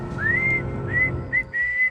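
A lone figure whistles a slow, mournful tune in a few rising, sustained phrases, close and clear over a low background rumble, imitating the ghost of a swagman.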